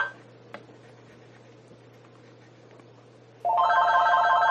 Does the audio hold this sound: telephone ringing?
yes